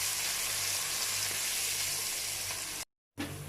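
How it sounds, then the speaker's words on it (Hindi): Ground spices and blended tomato fry in oil in a pan for a spinach kofta curry, giving a loud, steady close sizzle that cuts out briefly near the end before resuming. "यहाँ मैंने 2-3 मिनट तक मसाले को भून लिया है"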